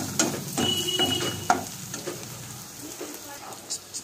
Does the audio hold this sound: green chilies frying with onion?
yes